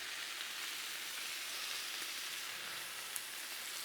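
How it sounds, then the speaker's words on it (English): Hardwood smoked bacon strips, six of them, sizzle steadily on a Blackstone griddle, a constant close hiss with faint pops and no voices. "There we go, bacon's on."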